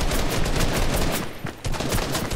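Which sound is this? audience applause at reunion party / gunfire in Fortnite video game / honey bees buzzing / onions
gunfire in Fortnite video game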